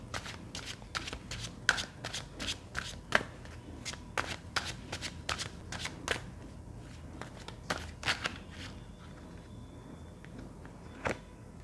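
Tarot cards are shuffled by hand in quick riffling bursts and sharp snaps, close and fairly loud, with short pauses between rounds and no talking.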